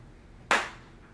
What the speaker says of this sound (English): We can do more of a clap.